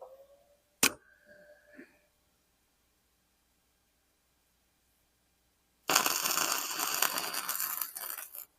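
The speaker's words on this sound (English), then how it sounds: "Turn the welder on." Wire-feed welder striking an arc, a loud steady crackling hiss lasting nearly three seconds at the end, after a sharp click and brief clinks of handling earlier, then quiet.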